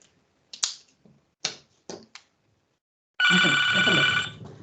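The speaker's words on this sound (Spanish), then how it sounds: "Déjame contestar porque si no va a sonar el teléfono" Telephone ringing: a loud, sustained electronic ring with bright steady tones bursts in after a few sharp clicks and taps, then tails off into quieter sound near the end.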